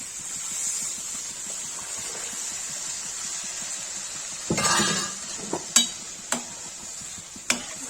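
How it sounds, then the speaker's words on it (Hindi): Steady sizzle of hot oil tempering, then a rush as cooked arhar dal hits the pan, followed by a few sharp spoon scrapes and clinks against the pot. "इसमें दाल डाल देंगे"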